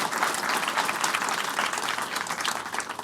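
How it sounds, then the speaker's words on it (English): An audience at a filmmakers' panel forum applauds the panelists with sustained, dense clapping from a crowd, steady and loud throughout. "please just give one more round of applause to our incredible panelists here"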